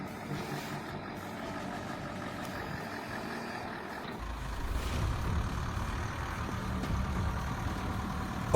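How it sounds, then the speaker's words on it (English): Heavy logging trucks loaded with freshly cut timber rumble through ice and snow, a steady low engine drone that grows louder and closer partway through, with faint beeps and air-brake hiss in the mix. "Trucks loaded with freshly cut timber push through the ice and snow,"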